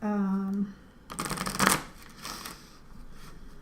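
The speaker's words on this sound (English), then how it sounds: "I'm going to start with the Healing with the Angels cards." Healing with the Angels oracle cards are shuffled close by in a quick riffling burst after a short hum, followed by quieter handling of the deck.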